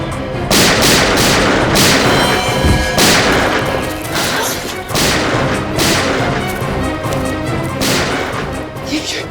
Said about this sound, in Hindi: ये गोलियों की आवाज कैसी? लगता है वहां से आई है।